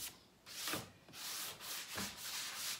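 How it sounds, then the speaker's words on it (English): Wood is sanded by hand with a 400 grit sanding sponge, soft rhythmic back-and-forth rubbing strokes, close and quiet. "this is actually a 400 grit sanding sponge"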